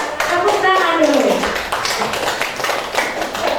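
A room of adult teachers at a training session clap their hands in a brief burst of applause, a dense run of claps close by, while someone speaks and a voice is heard.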